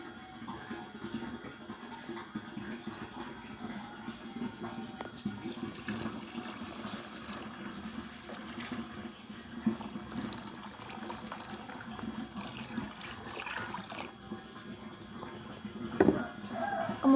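Water pours and trickles into a container to dissolve 2 kilograms of urea while preparing a Nitrobacter culture, a steady, moderately near running and filling sound lasting throughout with small splashes near the end.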